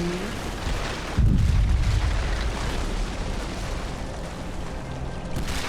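A building crumbles in the Giantess Playground video game as a loud sudden crash gives way to a long, dense rumbling collapse that fades gradually, with a fresh burst at the very end.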